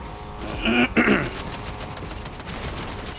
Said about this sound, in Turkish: Bize Başka sıkıyorlar, bize sıkıyorlar.